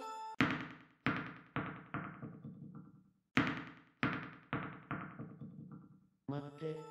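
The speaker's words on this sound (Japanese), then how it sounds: "誰もいないはずの体育館に響くボールが跳ねる謎の音" A ball bounces on the hard floor of an empty school gym at night, two runs of sharp echoing thumps quickening as each bounce shortens, separated by a pause, followed by a brief tonal sound at the end.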